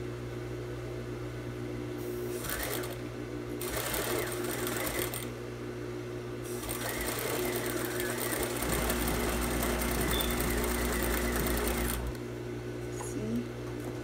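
A sewing machine runs in bursts while stitching a fabric hanger loop, its steady whir stopping and restarting several times up close, with short pauses between runs.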